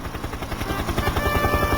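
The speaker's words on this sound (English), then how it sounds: "Harold the helicopter arrived" A helicopter approaches with a steady rapid chopping of rotor blades under a broad engine roar, loud and close, growing slightly stronger over under two seconds.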